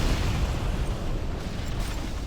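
Artillery fire in a strategy video game on the Final Crossroad map keeps up a continuous, dense rumble of blasts and booms that stays loud and even throughout, with no talking.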